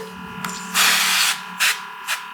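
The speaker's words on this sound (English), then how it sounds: "Let's hit it with some spray." Three quick hissing spray bursts of baste onto a spatchcocked chicken, the first longest, then two shorter puffs, close up over a low steady hum.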